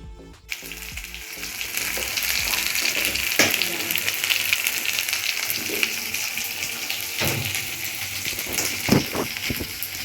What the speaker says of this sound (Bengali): আজকে চিকেনটা একটু অন্যরকমভাবে রান্না করছি, মাংসের মশলাটা এই করে ভেজে